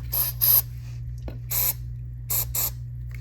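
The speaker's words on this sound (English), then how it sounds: "what you're gonna wanna do is get some lubricant in there to make sure everything slides freely and doesn't get stuck" Short bursts of aerosol lubricant sprayed into a stuck door handle mechanism, four or five hissing spurts of uneven length over a steady low hum, close and clear with no talking.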